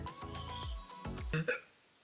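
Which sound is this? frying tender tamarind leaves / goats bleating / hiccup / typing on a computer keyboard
hiccup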